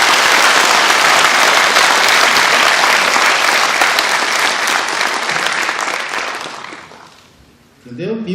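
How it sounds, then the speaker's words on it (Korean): Large audience at a Mokpo mayoral pre-candidate's public talk breaks into loud, sustained applause, dense clapping that holds for about six seconds before tapering off, followed by the speaker resuming. "개혁에 동의하신다면 큰 박수로 한번 서로 확신하시죠."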